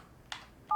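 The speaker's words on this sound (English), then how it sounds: "and dial the number" Brief in-game dial tones from a mobile phone in Thimbleweed Park, a short quiet blip followed by the start of a clear electronic tone, heard alone.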